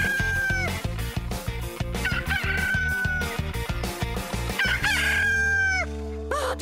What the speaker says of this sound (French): ce coq vient de chanter pour la toute dernière fois